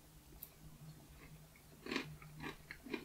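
A bite into a Pieminister British beef steak and craft ale pie, giving a few soft, moist crunches and chewing sounds close to the mouth, quiet against a low background hum.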